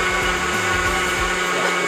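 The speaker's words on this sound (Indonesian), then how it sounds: "Jadi kulit telur bersamaan kulit telurnya kita blender" A blender grinding eggshells into a fertilizer booster mix gives a loud, steady, high-pitched whirring roar with no pauses.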